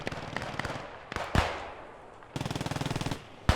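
Machine gun fire in the World War II shooter Post Scriptum on the Oosterbeek map, rapid rattling bursts with a few louder single cracks between them, mixed with distant battlefield gunfire and no talk over it.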